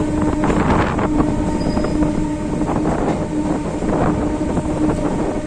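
A passenger train pulling out of Palakollu station on the Nidadavolu–Narasapur line, a steady rumbling roll of wheels and carriages, heard from on board with constant wind noise and no voices.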